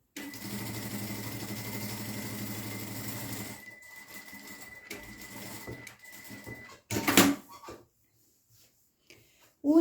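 A sewing machine stitching a seam on a dish towel, a fast steady mechanical whir running for several seconds, then stopping, followed by brief handling clatter and near silence.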